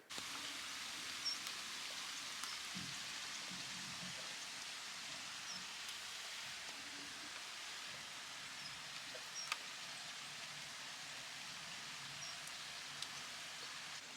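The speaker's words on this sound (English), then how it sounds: "I've got both the soundtrack of the rain" Soft, steady hiss of rain falling, continuous and even, with a few faint taps and low thuds in the background.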